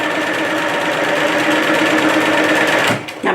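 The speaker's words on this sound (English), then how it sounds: "If you're following along with my stitching here." A sewing machine stitches fabric for a McCall's pattern appliqued pocket in a rapid, even mechanical whir that runs steadily close up, then stops near the end with a couple of short restarts.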